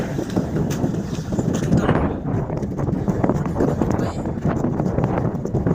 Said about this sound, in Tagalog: medyo malakas-lakas na yung hangin